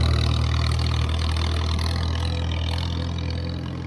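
McCormick Farmall 350 tractor by International Harvester idling outdoors, a steady low, throbbing engine rumble held at even loudness throughout, close and unaccompanied by voices.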